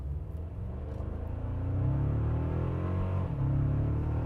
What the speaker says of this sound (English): The all-new 2024 Toyota Tacoma TRD Off-road without launch control